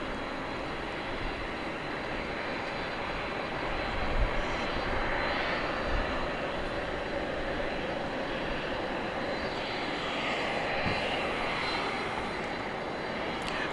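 A Boeing 777 jet on flight 132 to Dublin roars steadily at a large airport at night, a broad sustained engine rumble at moderate distance that holds level throughout, with no talking.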